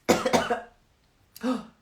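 Two quick coughs close together, then a short pause and a third cough, close and clear in a quiet room.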